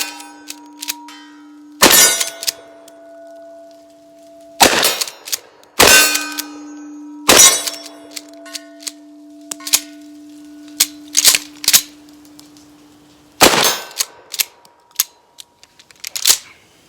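Mossberg 500 shotgun blasts at an outdoor range, each followed by a ringing clang from steel targets set out to about 25 yards, with about half a dozen sharp loud reports spaced irregularly and metallic pings trailing between them.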